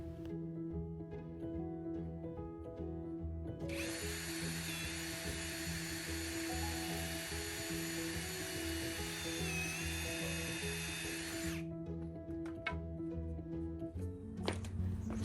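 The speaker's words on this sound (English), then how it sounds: "I'm drilling a hole through the brace support first" Power drill boring a hole through a wooden brace support for a canopy frame, a steady high whine running for about eight seconds in the middle over a constant background hum.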